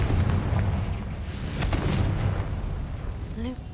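A Confringo blasting spell explodes in the Hogwarts Legacy video game: a heavy, booming burst with rumbling aftermath, while a voice speaks over the blast.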